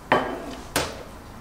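A cooking pot is set down on a stove with two distinct metallic clunks, the second one a little quieter, each leaving a short ringing tail in a quiet kitchen.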